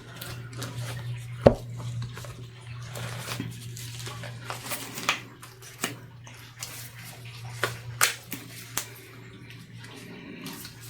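Water sloshes and splashes as a resin crayon and pencil holder is scrubbed in soapy water, with occasional sharp clinks and knocks over a steady low hum.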